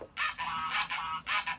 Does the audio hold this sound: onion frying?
no